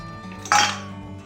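A single sharp clatter as a plate is taken out and set down in a home kitchen while raw banana is being prepared, a brief close clink over quiet background.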